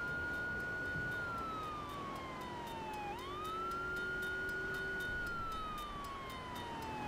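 A police car siren in Grand Theft Auto III wails continuously in slow rising and falling sweeps, loud and steady over the whole stretch with faint traffic noise beneath.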